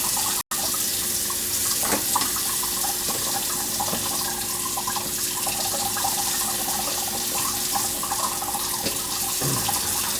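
Water from a leaking kitchen sink faucet runs steadily, a continuous close splashing flow with a few faint clinks and knocks, no talk.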